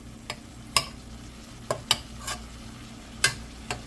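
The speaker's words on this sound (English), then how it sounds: "Let's give it a good stir." Chunks of onion being sautéed and stirred in a pot for a vegan chicken pot pie, with a spoon scraping and clacking in several sharp, separate strokes over a low, steady background hum.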